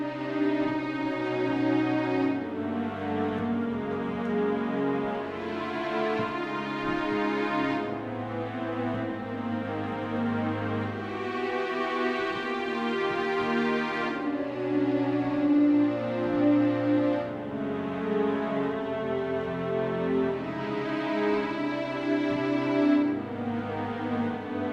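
Guitar chords in add 9 voicings move clockwise around the circle of fifths in a plagal cycle, with sustained, ringing chords changing every few seconds at a steady, fairly loud level with no talking.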